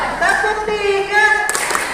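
A brief group chant from a classroom of students ends in a quick burst of three unison claps on command, loud and close.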